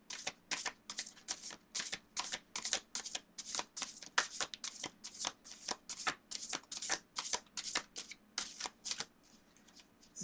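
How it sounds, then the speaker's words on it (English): Continuous shuffling of a very large tarot deck, close and crisp, with rapid repeated riffling bursts in a steady rhythm, no voices. "It is very difficult to shuffle sometimes."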